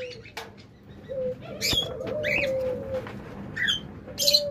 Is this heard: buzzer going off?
no